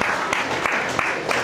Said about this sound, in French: Merci beaucoup et encore vos applaudissements